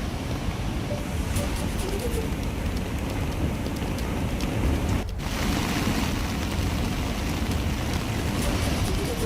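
Floodwater from the overflowing Dhamani dam on the Surya river roars in a steady, dense rush during heavy rain, loud and continuous with no pause.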